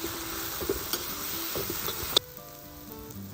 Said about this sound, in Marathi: आता आपण ही जी पेस्ट केलेली आहे पाट्यावर ती याच्यात टाकून घेऊ. चांगली तळून घेऊ चटणी.